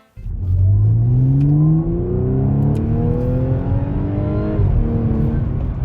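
An Audi 3.0T engine revs up with a rising supercharger whine layered over the exhaust note, heard close and fairly loud, climbing in pitch and then holding steady.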